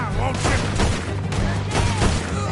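Burst of gunfire in a chaotic action scene, dense repeated shots packed into a couple of seconds under shouting voices.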